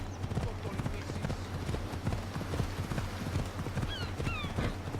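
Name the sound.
horse galloping and neighing in Assassin's Creed Odyssey video game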